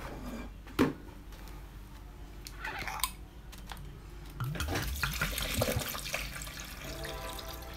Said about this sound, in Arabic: وبعد كده نحط المية